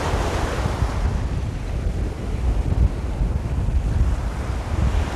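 Sea waves wash onto the beach at Bagoush, Sidi Heneish, a steady roaring surf with heavy wind buffeting close to the microphone, no voices.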